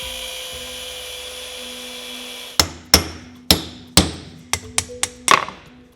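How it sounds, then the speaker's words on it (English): Eight sharp metallic hammer strikes knock out a differential bearing on a BMW M-car carrier unit, the blows coming in an uneven series after a steady workshop hum, each hit loud and close with a short ringing decay. "So just cut the cone and use a hammer to take out the bearing."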